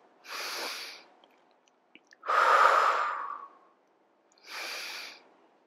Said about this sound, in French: Respirez ici.